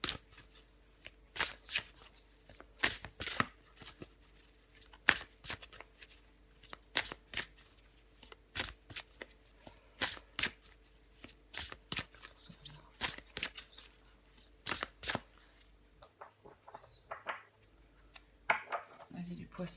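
Playing cards shuffled by hand before one is drawn, a steady run of crisp riffles and flicks at close range, soft overall, with speech faint in the background.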